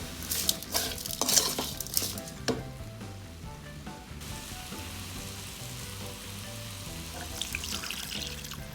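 Water poured into a pan of quail pepper roast sizzling on the stove, a steady hiss and splash with clinks of the pan at the start.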